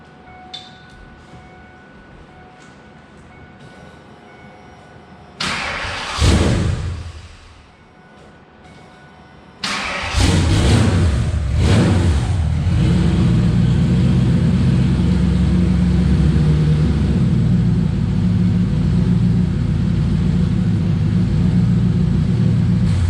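A Saleen car with a fuel pump newly wired turns over and fires up: a low idle hum, then a surging burst that drops away, then a restart into a loud, steady, rumbling run.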